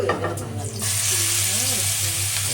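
Hot oil in a new wok sizzles and hisses with chicken frying in it, a steady broadband crackle that swells after a brief quieter start, with a low hum underneath.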